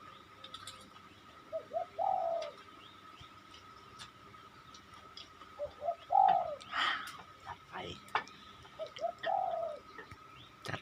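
A wild spotted dove in training gives a throaty coo call three times, spaced a few seconds apart, at moderate distance with faint outdoor ambience and scattered chirps between.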